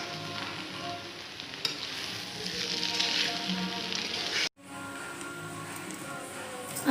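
Chicken being stir-fried for chicken chow, a dense close sizzle with scattered clinks of a utensil, briefly cut off near the middle before the frying resumes, with no talking.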